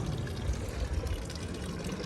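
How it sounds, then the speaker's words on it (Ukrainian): Water pouring steadily from a public drinking fountain on a street in Bern, Switzerland, a soft continuous splashing trickle heard close by in quiet surroundings. "з цих фонтанчиків можна пити воду"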